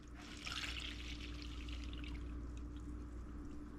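Orange juice, one and a half cups of it, pours into a pan in a steady, close liquid stream, with a constant low hum in the background.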